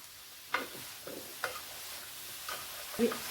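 Cabbage, peas and carrot stir-fry over a high flame: a low sizzle punctuated by several distinct spatula knocks and scrapes against the pan.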